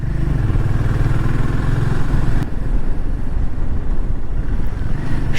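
Loud motorcycle engines on a rough mountain road toward Lachen, one of four bikes riding together, a close steady throbbing drone that shifts pitch partway through as the rider changes gear, with no voices.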